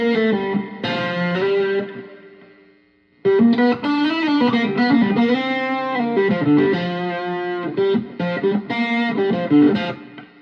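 An electric guitar plays distorted, sustained chords through a Roland Cube 10GX amp with reverb, loud and close. The notes ring out, fade briefly, then resume strumming.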